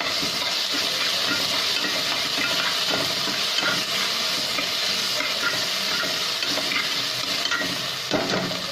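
Corn snack ingredients fry in a pan until the raw smell is gone, with loud continuous sizzling and hiss and occasional stirring scrapes up close.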